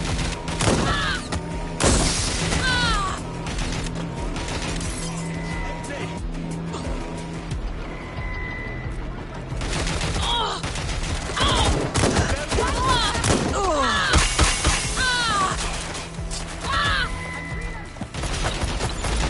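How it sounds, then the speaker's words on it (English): Gunfire in the video game Watch Dogs Legion, bursts of shots rattling amid loud car engines and tire noise, with a voice talking over the busy game action. "Suspect shooting."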